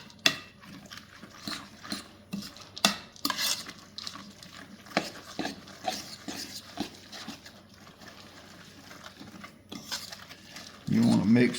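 A spoon scrapes and knocks against a bowl while mixing a salmon patty mixture with breadcrumbs and stuffing, a series of irregular clinks and taps, fairly close, with a person talking and a brief louder burst at the end.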